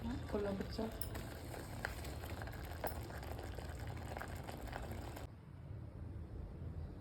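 Potatoes and moth beans boil in a pot with a continuous bubbling, hissing churn. A brief voice sounds near the start, and the sound drops quieter toward the end.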